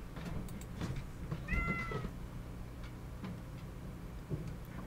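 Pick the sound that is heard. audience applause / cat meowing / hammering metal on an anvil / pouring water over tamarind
cat meowing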